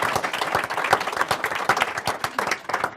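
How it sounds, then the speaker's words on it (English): Audience applause in a lecture hall, a dense burst of many hands clapping at moderate volume, continuous for a few seconds with no talk. "You can applaud."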